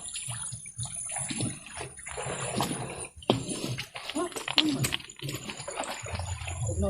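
People bathe in a well, splashing water in irregular bursts close by, with voices talking over much of the clip.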